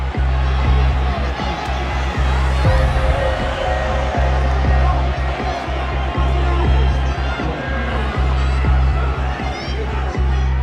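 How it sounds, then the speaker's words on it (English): A boxing crowd cheers inside T-Mobile Arena, a dense, continuous roar of voices and shouts that stays loud throughout, with a commentator's voice running over it. "The crowd at T-Mobile Arena responded enthusiastically to the high-paced action"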